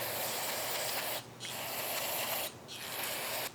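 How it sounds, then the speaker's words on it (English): Rotary brush transmission gears are scrubbed and washed with a steady loud hissing spray, broken by two short pauses, with no talking. "I'm washing all the gears"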